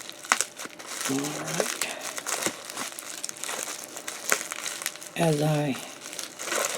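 Packaging from a fountain pen mail delivery crinkles and rustles loudly up close as it is unwrapped, in two main bursts of crumpling, while someone talks over it.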